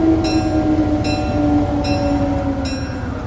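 A train runs steadily with a continuous rumbling roll and a low hum, with periodic clicking rail-joint beats about every 0.8 seconds, loud and close throughout.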